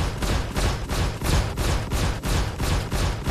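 Gunfire from Vanduul fighters pounds the shields of an Aegis Vanguard ship in Star Citizen alpha 2.1.1 as a loud, rapid string of evenly spaced bursts, roughly seven pulses in a steady, relentless rhythm.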